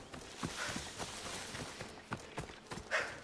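Horse hooves clip-clop in Assassin's Creed Odyssey, a short run of soft, irregular steps at moderate distance against faint game ambience, with no talking over them.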